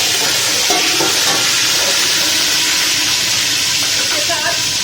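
Ginger garlic paste, two tablespoons, frying in hot oil rendered from fatty meat for biryani, a steady dense sizzle with faint clinks of a stirring utensil throughout.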